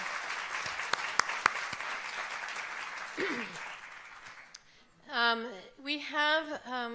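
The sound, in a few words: audience applause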